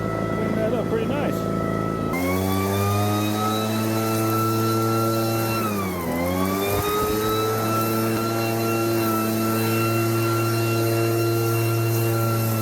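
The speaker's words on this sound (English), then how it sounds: "That is a very powerful and really pretty easy to use blower." A VEVOR 52cc two-stroke backpack leaf blower roars steadily and loudly close by, starting up after a quieter opening and holding a strong droning whine, with a brief dip in pitch midway before settling back to full power.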